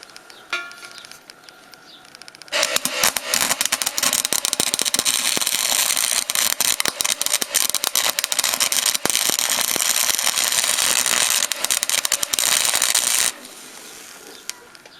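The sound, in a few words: stick welder tack welding old rusty metal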